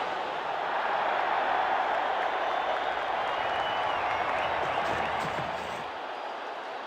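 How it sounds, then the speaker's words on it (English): Steady roar of a cricket stadium crowd in the WCC3 video game, a dense continuous wash of cheering and murmur that holds at an even level before easing slightly at the end, with no talk. "The crowd is anxious."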